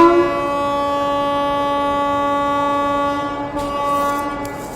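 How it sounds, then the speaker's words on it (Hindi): The Bilaspur Bikaner Express, an electric train, sounds a long sustained horn blast near the tracks as it departs, followed by the rising rumble of the train moving off. "वहाँ देखिए बिलासपुर बीकानेर एक्सप्रेस निकल रही है इसी के साथ।"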